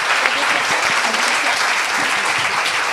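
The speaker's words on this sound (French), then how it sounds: "Eh bien, on peut vous applaudir." An audience at an opening session gives a loud, dense round of applause, a continuous wash of many hands clapping evenly for the whole stretch.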